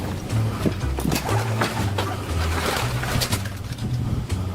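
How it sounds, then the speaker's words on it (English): Pigeons cooing in the Supermarket Together video game, low repeated throaty coos in steady rhythm, fairly loud, over busy background game noise with clicks and bumps. "Pigeon!"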